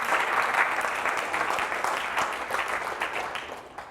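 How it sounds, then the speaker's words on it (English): An audience at a Harvard University speech breaks into sustained, dense applause that holds steady for several seconds and stays fairly loud, with no speech over it. "give him a round of applause"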